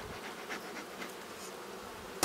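Honeybees buzz around an open hive during a spring colony boost with brood frames, a soft continuous hum with occasional louder passes near the microphone, ending in a sharp clunk.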